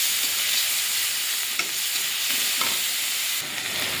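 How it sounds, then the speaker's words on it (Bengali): Onion paste fries in oil with black cumin in a wok for a fish curry, giving a loud, steady, dense sizzle throughout, with a few soft scrapes of stirring breaking through at intervals. "পেঁয়াজটা একটু নাড়াচাড়া করে নেব।"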